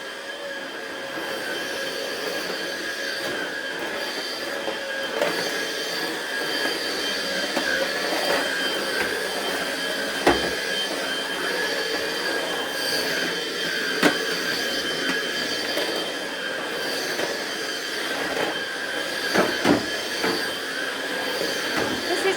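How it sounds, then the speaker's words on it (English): A vacuum cleaner runs continuously through a quick home cleaning routine, a steady, fairly loud motor whine with a rushing airflow hiss and a few brief knocks as it moves over surfaces, with no talking. "you just need a really quick vacuum"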